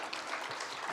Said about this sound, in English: So can we have you on stage with a huge round of applause